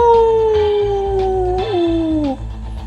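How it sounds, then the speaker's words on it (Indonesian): A dog howls in the distance as a sound effect: one long, sustained wail that slowly slides downward before tapering off, over a low rumbling background. "Lapat-lapat kejauhan kembali terdengar suara seperti anjing melolong."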